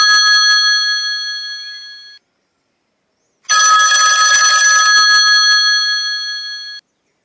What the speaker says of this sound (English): sorry for the phone call that's coming in right